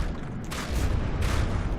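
A cram cannon firing in the From the Depths video game, two heavy booming bursts in quick succession over a rumbling low background.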